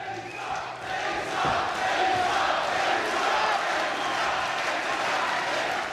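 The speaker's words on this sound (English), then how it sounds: "Fight begins and you can hear the crowd cheering Denisa" A crowd roars and cheers steadily at the start of a Jiri Prochazka MMA fight, a dense, loud wall of arena noise with shouts rising throughout, heard close and continuous.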